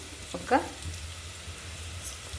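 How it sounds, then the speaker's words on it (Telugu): Onions frying in a pot for Telangana-style mutton curry, with ginger garlic paste being added; a quiet, steady low sizzle runs throughout, with a brief clink near the start. "ఆనియన్ మగ్గిపోతుంది"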